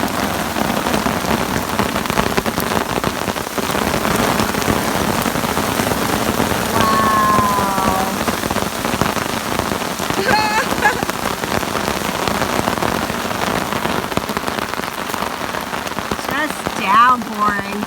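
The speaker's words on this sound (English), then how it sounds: "Downpouring." Heavy rain pours down steadily on a tent in the Canadian wilderness, a dense, loud, continuous patter with faint scattered voice sounds over it.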